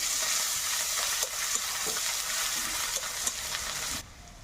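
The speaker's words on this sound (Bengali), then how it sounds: "একটু ভাজা ভাজা করে নেব" Garlic and ginger paste fry with onions in a hot pan, a loud close sizzle broken by scraping stirs and clacks, then cutting off sharply near the end.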